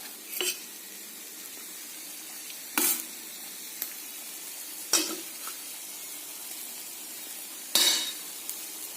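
Watermelon rind and dal for thoran sauté in a pan with a soft ongoing sizzle, punctuated by four distinct scraping clatters of a spoon stirring against the metal.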